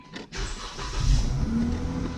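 A soft push-button click, then a Dodge Challenger engine cranks and catches, rising into a steady idle nearby.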